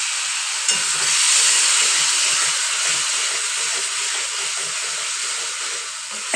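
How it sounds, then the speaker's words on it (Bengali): Thin spice-paste water from a blender poured into hot oil in a pan for a Bengali potato and Bombay duck curry, giving a steady close hiss and sizzle throughout with faint stirring clatter. "এ দেখো, মিক্সিতে মশলা বাটা জলটা দিয়ে দিলাম।"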